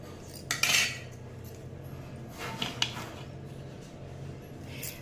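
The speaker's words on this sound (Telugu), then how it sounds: "దీన్ని ఇలా మూత పెట్టేసుకొని" A lid set onto a clay pot of rice soaking in water for fermented rice water gives a few light knocks and scrapes of clay, one cluster near the start and two more soon after, against quiet room noise.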